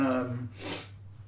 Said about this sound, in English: I'm sorry about these sniffles.